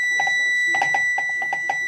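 Oven preheat timer set to 350 degrees beeping in a repeated series of short, bright electronic tones, close and fairly loud, with a steady high hum underneath.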